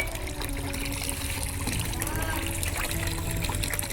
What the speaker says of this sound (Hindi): पैर धो करके चलते हैं अंदर।